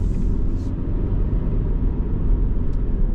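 A Saab 9-5 Aero engine hums from inside the cabin while driving, a steady, loud low rumble with road noise, continuous and with no talking.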